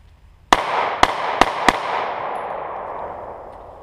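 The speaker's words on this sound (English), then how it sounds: "Let's just try and shoot it again," A Glock 19 pistol fires 9mm rounds from inside a plastic bag: four sharp, loud shots land close together over about a second, each followed by a long reverberant decay, with no talking.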